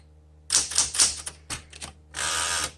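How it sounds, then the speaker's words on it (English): Typing on a 1974 Smith Corona Classic 12 manual typewriter: a quick run of sharp, loud key strikes close up, a short pause, then a sustained burst of clacking. "Typewriter does not disappoint."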